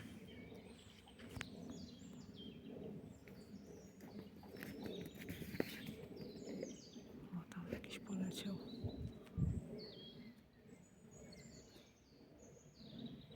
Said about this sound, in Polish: Ale ptaszki koncert dają wieczorny